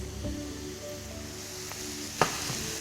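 Chopped aubergine and courgette fry in a pan with a soft, steady sizzle, broken by a few light clinks and stirring scrapes close by.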